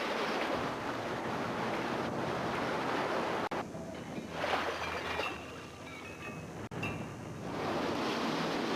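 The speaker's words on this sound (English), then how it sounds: "The pumps that are making the water are just being aimed by guys." Water pumps flooding the Titanic film set send a continuous loud rushing roar of water, broad and steady with brief dips, like crashing surf, with no talk.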